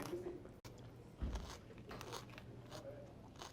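A crunchy stuffed pepper is bitten at an Ethiopian restaurant, a single faint crisp crunch followed by quiet chewing and low background murmur in a dining room.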